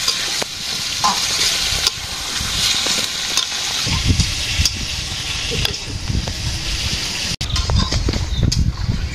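A fish curry cooks in a pan with a continuous loud sizzle and hiss, with stirring scrapes and some low rumbling and clatter underneath.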